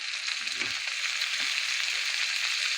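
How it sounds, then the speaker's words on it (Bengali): Sliced onion and green chilies fry in hot oil in a pan, giving a steady, dense, close sizzle that holds evenly throughout with no talking. "পেঁয়াজ দিয়ে দিচ্ছি কাঁচামরিচ দিয়ে দিলাম"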